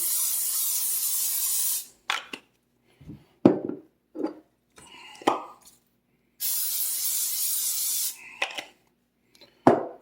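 Cooking oil spray hisses onto a pan in two long bursts, about two seconds each, with scattered soft clicks, rubs and handling knocks in between; no talking.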